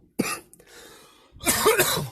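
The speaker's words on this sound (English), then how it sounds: "there goes that cough coming" A single cough bursts out near the mic, followed by a pause and then a harsher, longer bout of coughing and throat clearing.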